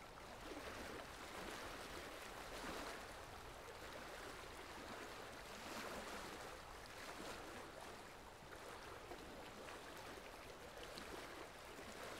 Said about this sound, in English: All you can hear is the lapping of the waves on the shore.